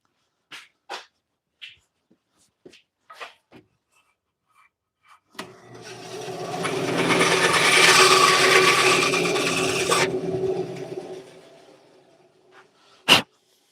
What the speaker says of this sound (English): I'm actually going to trim this on my bandsaw first